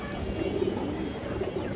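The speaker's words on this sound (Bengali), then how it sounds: "এক হাত সাইজের একটা গররা নর কবুতর" Male Gola pigeon of an old bloodline, with red eyes and a big body, cooing in low, steady, continuous murmurs at close range.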